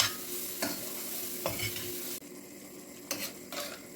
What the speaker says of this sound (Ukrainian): Ось так перемішую, щоб паприка трошки присмажилася, засмажилася.